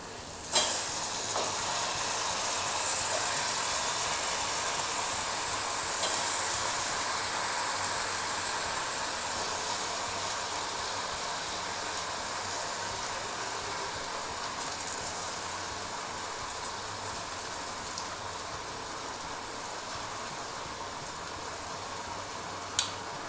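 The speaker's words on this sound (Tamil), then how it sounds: "இப்போ நறுக்கி வச்சுருக்க கத்திரிக்காயை வந்து இதில் நம்ம சேர்த்துடலாம்." Chopped brinjal (eggplant) sizzles steadily in a hot pan for brinjal thokku, a faint, continuous frying hiss with a couple of soft clinks and no talking.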